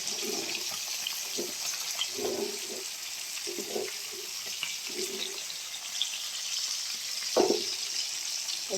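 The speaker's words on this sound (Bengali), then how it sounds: "এই যে মাছ ভাজতে দিয়ে দিচ্ছি, খাওয়া মাছ ভাজি করবো" Fish frying in a pan gives a constant hissing sizzle with scattered pops and spatters, close and steady, with no voices over it.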